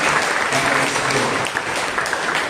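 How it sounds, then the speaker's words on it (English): Congregation at a Monday prayer meeting applauding children's exam results, dense continuous clapping throughout, moderately loud and filling the room. "let us give a clap and give thanks to God for all that God has done"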